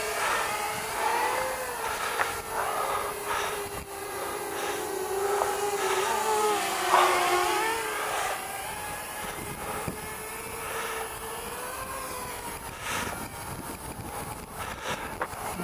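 A FeiLun FX127 quadcopter drone flies with a continuous high whine from its small motors, the pitch rising and falling as it speeds up and turns, fairly loud and without speech throughout.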